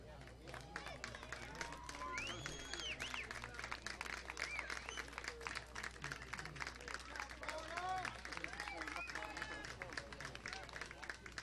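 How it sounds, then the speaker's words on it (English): Crowd applause and clapping at a youth baseball World Series trophy presentation honor the Florida team, a sustained patter mixed with scattered cheers and whistles, heard from a moderate distance with voices in the crowd. "let's give the champions from the state of Florida another round of applause for their play here this week"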